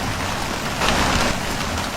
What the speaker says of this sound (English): The extended downpour has overwhelmed rivers and drainage systems